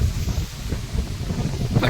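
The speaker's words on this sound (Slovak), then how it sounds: "No, strašne fúka" Strong wind at a fishing lake in Opatovce buffets the microphone with a loud, continuous low roar, steady throughout with gusty rumbling swells.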